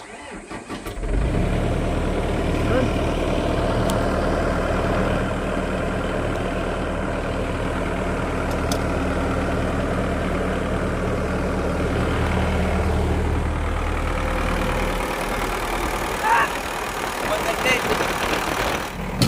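A backhoe engine that had been failing to start cranks and catches, then settles into a steady, loud diesel idle that runs for a long stretch before cutting out near the end.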